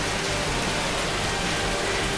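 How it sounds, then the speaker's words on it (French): Heavy rain falls outside a building, a dense, constant hiss of steady downpour without breaks, heard from indoors. "Waouh! T'as vu cette pluie?"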